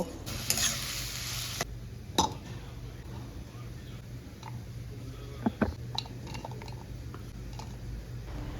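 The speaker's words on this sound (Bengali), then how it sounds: "কড়াইতে সর্ষের তেলে জিরে, তেজপাতা, আলুর টুকরো আর পেঁয়াজের কুচিগুলো দিয়ে ভালো করে ভাজা ভাজা করে নেব।" Cumin, bay leaf, potato chunks and chopped onion frying in mustard oil in a wok, a steady sizzle broken by a few sharp stirring scrapes and clinks, close and moderately loud with no talking.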